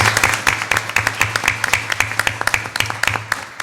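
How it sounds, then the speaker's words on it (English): Audience at a school board of education meeting applauding student athletes, a moderate crowd of distinct claps with a low hum beneath, steady and fairly close throughout. "I'd like to give you a round of applause for doing it in the classroom and on the court."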